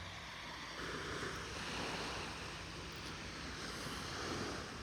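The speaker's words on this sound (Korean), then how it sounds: "파도 소리도 좋고" Sea waves wash onto a west coast beach at a campsite in the morning, a constant broad rush of surf with gentle swells and some wind, heard from fairly near with no voices.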